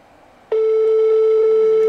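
A telephone line tone during a call to an unanswered contestant on a French phone-in prize game, a loud steady tone that starts abruptly after a brief quiet moment and holds without break, alone with no voices.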